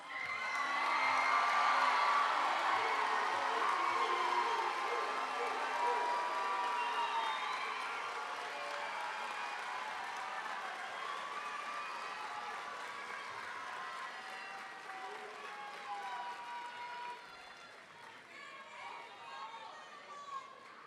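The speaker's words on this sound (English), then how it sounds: "Give them one more round of applause." An audience at a school graduation ceremony applauds and cheers in a dense, loud wash that slowly fades over about twenty seconds, with a voice talking over the tail end.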